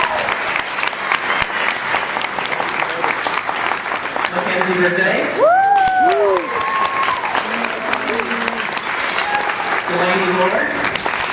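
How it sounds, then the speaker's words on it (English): Audience applause at a student writing event honouring featured young authors, a continuous clapping wash with a voice announcing names over it and cheers and whoops rising partway through. "Let's give him a round of applause."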